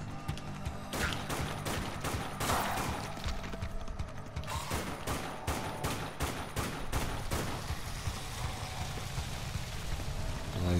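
Rapid bursts of SMG and rifle fire from the video game Dead Nation ring out loud and close, forming dense volleys that pause briefly before resuming, with no talk over them.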